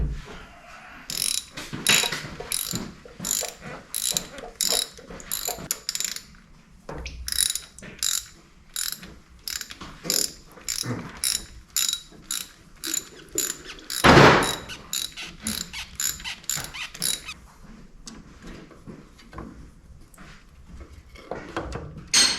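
A hand ratchet loosening bolts on a David Brown 990 tractor's fuel pump, with rapid clicking bursts in repeated strokes and brief pauses between them, close and loud.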